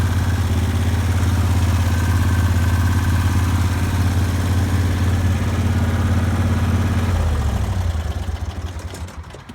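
A Cub Cadet 1440 lawn tractor with a Vanguard engine runs at a steady, loud idle close by, then winds down and cuts off near the end.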